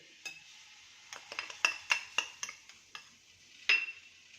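Dry flour dough for crisp Gujarati farsi puri mixed with salt, heard as a run of light metallic clinks and taps of a spoon against a bowl, sparse at first and then quicker, close and fairly quiet.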